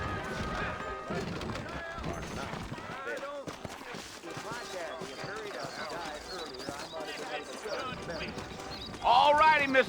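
Horse hooves clip-clop steadily throughout in Red Dead Redemption, mixed with game sounds and voices talking over them, ending in a louder burst.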